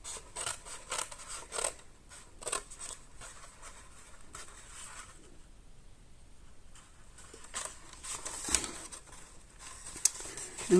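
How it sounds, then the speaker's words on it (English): Repeated snips of scissors cutting paper for a handmade gift box, in bursts with a quiet pause midway, fairly close and crisp. "I'm going to cut those ones away."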